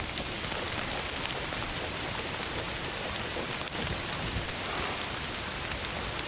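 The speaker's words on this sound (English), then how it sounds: "Don't you love rain?" Heavy rain pours without pause in Indiana Jones and the Great Circle, a thick uniform hiss of drops on surfaces with a faint low rumble beneath and no speech.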